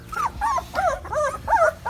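A pitbull puppy with newly opened eyes yelps and whimpers while being held, giving four or five rising, squealing cries in quick succession, loud and close.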